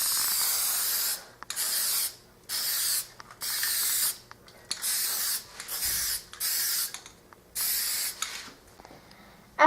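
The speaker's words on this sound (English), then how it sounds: "I'm now going to spray it with my pink spray paint" Pink spray paint hisses from an aerosol can onto a handmade boomerang in about eight short bursts of a second or so each, separated by brief pauses, close and clear with no talking.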